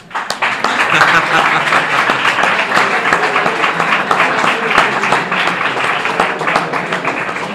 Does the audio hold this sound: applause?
yes